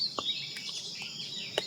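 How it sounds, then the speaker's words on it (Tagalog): Birds chirp near a balete tree, faint and fairly distant, with a few short sharp calls over a constant high insect-like hiss. "Biglang nag-ingay ang mga ibon."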